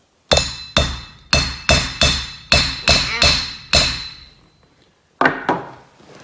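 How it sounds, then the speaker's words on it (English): A hammer strikes a metal stop onto a homemade catch-and-release pole, eight sharp ringing blows in a steady rhythm, followed by a pause and two more hits, loud and close. "Let me hammer this on here"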